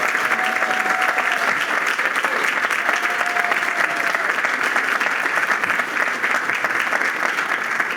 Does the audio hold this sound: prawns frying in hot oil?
no